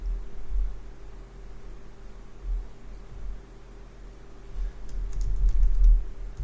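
Soft, rapid typing of test code on a computer keyboard, a faint run of clicks over a low steady hum, quickening toward the end.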